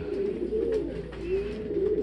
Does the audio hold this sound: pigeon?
yes